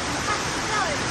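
Rushing water from a roadside waterfall along a landslide-hit mountain road in Datong, Yilan, during Typhoon Nesat's torrential rain, a steady broad roar filling the moment with faint voices beneath it.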